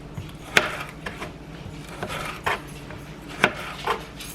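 Knife slicing a halved bell pepper on a cutting board: a few separate crisp cuts, each a short sharp crunch followed by a brief scrape, spaced about a second apart, close and moderately loud against quiet kitchen background.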